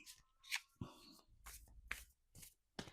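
Soft papery riffles and flicks of cards being shuffled, several quick bursts in an irregular rhythm, close and quiet.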